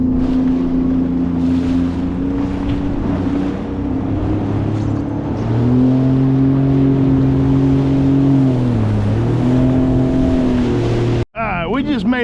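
A Sea-Doo personal watercraft runs steadily offshore, its engine drone loud and close with shifting pitch as speed changes, wind and water rushing over it, before a brief dropout and a short burst of warbling sound at the end.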